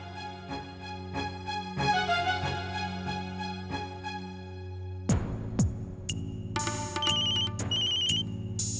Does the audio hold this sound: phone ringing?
yes